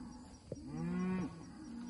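A cow moos once out in a hay field, a single long low call lasting under a second, fairly close and clear over quiet outdoor background.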